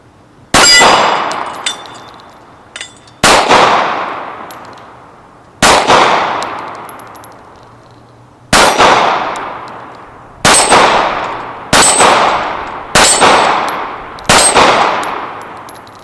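A Sig Spartan .45 ACP 1911 pistol fires eight sharp shots outdoors in the cold, each crack followed by a ringing metallic clang from steel targets that decays slowly, spaced irregularly with shorter gaps toward the end.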